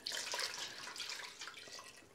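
Tap water runs steadily into a kettle being filled for dyeing a yarn cake, a close, continuous splashing stream that fluctuates slightly as it fills, with no talking.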